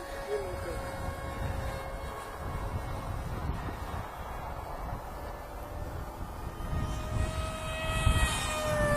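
Model airplane Zvezdozhuk 630 buzzes through gusty wind overhead, its electric motor a thin steady whine with wind rumble on the microphone, growing slightly louder toward the end.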